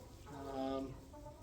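Chickens clucking in a mixed flock of younger and older birds in a backyard coop where guinea fowl are being introduced: a single nearby drawn-out cluck swells and fades over a low background, with no talking.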